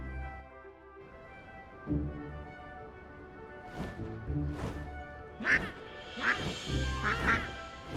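A big duck in the video game My Time at Sandrock quacks repeatedly, the calls growing louder and more frequent toward the end over a low game ambience.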